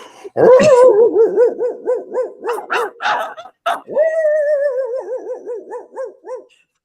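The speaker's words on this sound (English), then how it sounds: "don't get my dogs barking." A dog barks and yips repeatedly at close range, with high whining tones between barks and a few sharp yelps mixed in.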